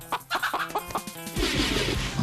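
A chicken clucks in a quick series of close, rhythmic clucks. A loud, steady rush of noise then takes over.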